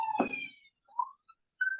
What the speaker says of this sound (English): Sorry, the fire alarms.